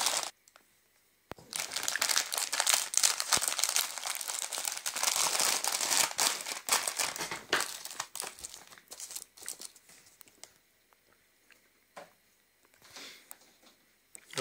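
A plastic wrapper on a 200-gram pack of cappuccino caramel candies crinkles loudly close up as it is torn open, a dense burst of rustling that later thins to sporadic crackles.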